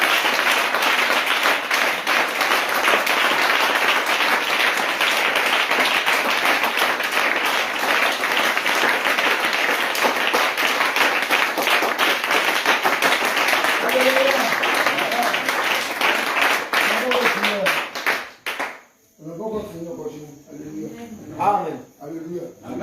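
A church congregation at an evening prayer service claps and applauds in a long, loud, dense wash of hands that fades out near the end, giving way to voices speaking.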